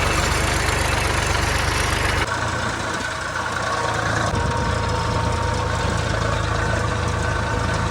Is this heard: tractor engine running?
yes